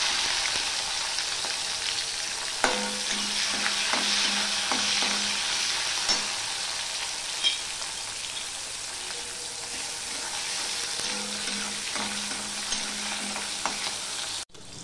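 A tomato and four green chilies fry in oil tempered with black cumin for a traditional hilsa fish dish, an even crackling sizzle broken by repeated spatula scrapes and clinks against the pan, close and steady without speech.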